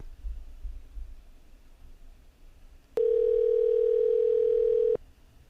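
A telephone dial tone, a single steady electronic tone that starts abruptly, holds for about two seconds, then cuts off, preceded by faint low room rumble.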